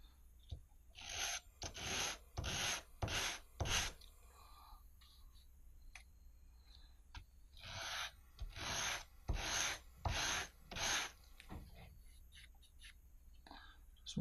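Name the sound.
rocket fins dragged across sandpaper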